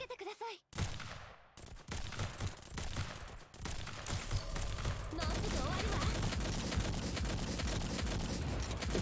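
Rapid bursts of gunfire in the Girls Frontline tactical game ring out continuously and loudly from the middle onward, over game music and effects, with a voice speaking early on.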